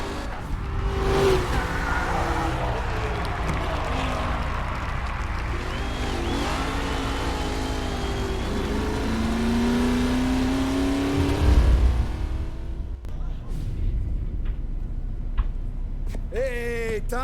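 Race cars in Mafia Definitive Edition, engines droning and whining as they shift pitch through a long continuous run, with a brief tire squeal near the end and a voice talking over the noise.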